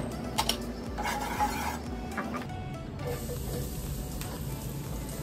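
Prawns sizzle in hot oil in a pan over medium heat while carbonara is being made, a steady broadband hiss with occasional louder crackles and a few clinks of utensil against the pan.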